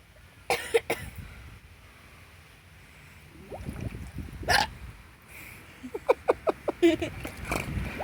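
A person hiccupping in a pool, with a couple of sharp hiccups early, then a rapid run of short hiccup bursts near the end, close and clear amid splashy ambience and faint voices.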